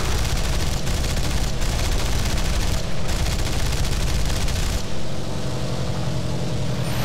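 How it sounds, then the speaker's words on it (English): Aircraft cannon fire in War Thunder from a Japanese fighter plane, heard as a dense, loud, continuous burst of rapid gunfire over engine roar for several seconds, with no talking. "I think I hit it with the cannon."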